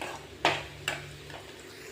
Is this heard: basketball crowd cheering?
no